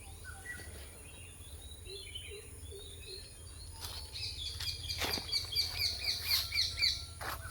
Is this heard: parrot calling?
yes